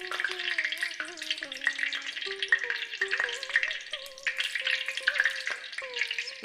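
Five cloves crackle and sizzle in hot oil, a steady dense frying hiss throughout with some stirring clinks and a faint tonal whine running underneath.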